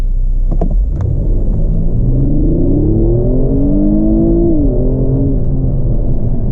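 A 2018 Kia Stinger GT in sport and manual mode launching at full throttle, its loud engine roar climbing steadily in pitch, dipping briefly at a gear change, then pulling hard again from close inside the cabin.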